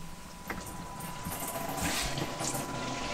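Water rushes steadily through a shower head during a spring cleaning of a Weinsberg camper van's water system, a constant close hiss with a brief knock early on.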